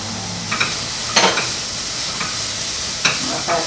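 A pan sizzles in a steady, fairly loud crackle while cooking, with occasional sharp scrapes and clinks as the food is stirred, and no speech.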